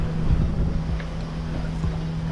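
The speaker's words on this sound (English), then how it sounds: "I'm sailing right now" A sailboat under sail downwind off Dominica, heard as a steady roar of wind and rushing water with a low rumble underneath, constant and close with no talk.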